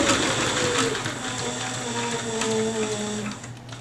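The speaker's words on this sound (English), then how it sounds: "we're just going to sew a line. So you can sew it pretty quick." A sewing machine stitches a line through leather, running with a steady, even mechanical whir and fast rhythmic needle ticking for nearly four seconds without pause.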